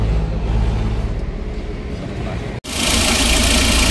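A Mitsubishi L300 with a 4D56 diesel engine idles close by, a steady low rumble with mild knock, briefly cut off for an instant before resuming louder and brighter.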